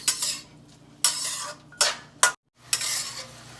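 Onion and tomato sautéing in oil for sev usal, heard as loud bursts of sizzle and clattering spoon-against-pan stirring separated by short pauses, close and without talk.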